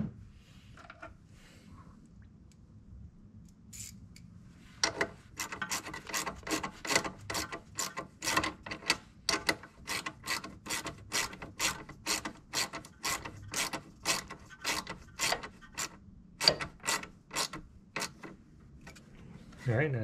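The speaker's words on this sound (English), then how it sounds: "We'll go ahead and tighten that with a 10 mil." A hand ratchet with a 10 mm socket tightens a bolt on the intake of a 4th-generation Acura TL, giving a long run of quick, close, evenly spaced clicks.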